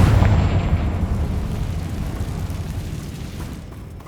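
A Confringo fire spell bursts in Hogwarts Legacy as a loud, close, booming blast whose rumble slowly fades over several seconds, with no talking.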